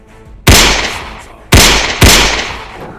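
Three loud, close revolver gunshots crack out during an ambush on a horse-drawn carriage, one at the start and two more in quick succession, each followed by a ringing decay.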